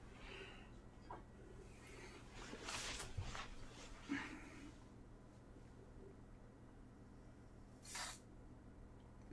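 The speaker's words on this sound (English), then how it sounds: "I'll spray some freeze spray on it" Aerosol freeze spray hissing onto a circuit component at an electronics repair bench, with a short burst near the start and another brief spray near the end, fairly close over steady low hum.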